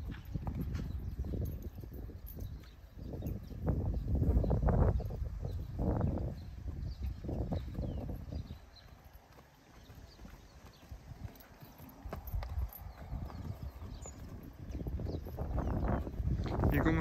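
A criollo horse clip-clops under a rider, its hooves beating a steady, close rhythm that pauses briefly and resumes, with people talking now and then and birds faintly in the background.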